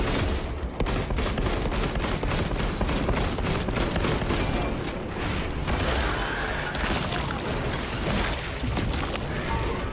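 Heavy cannon fire in a video game battle against Tyranids, a rapid series of loud booming blasts and crashes repeating close together over a rumbling, chaotic background.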